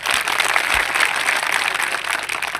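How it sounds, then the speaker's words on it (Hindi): An audience claps at a public talk in India, a dense, steady round of applause filling the short stretch without pause, fairly close and even in loudness. "इसी बात पे तालियां बजाओ"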